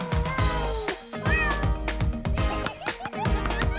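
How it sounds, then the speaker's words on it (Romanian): A kitten meowing repeatedly in a rhythmic series of high, rising cries over a loud musical backing, close and clear. "Prima ta pisicuță!"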